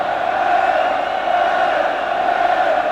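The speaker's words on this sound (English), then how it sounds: "listen as the crowd prepare to welcome the Welsh side" A packed rugby stadium crowd in Cardiff awaits the Welsh side before Wales versus Scotland, a loud, steady roar of massed voices with no break across the whole stretch.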